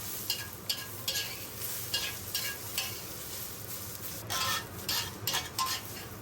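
Onions sautéing in olive oil in a pan, a continuous sizzle with repeated stirring scrapes and light clatters of a utensil against the pan, close and moderate in level, no voices.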